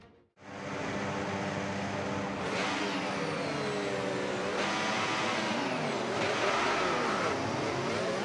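Formula 1 race cars in a video game at Monza pull away on the formation lap, a loud, steady high-pitched engine drone with rising revs and gear changes from several cars, continuous and close.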